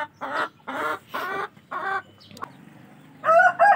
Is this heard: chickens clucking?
yes